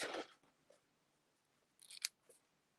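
Scissors snipping the ends of a tied ribbon bow, faint and close, with one soft cut at the start and a quick cluster of small crisp snips near the end, separated by quiet room tone.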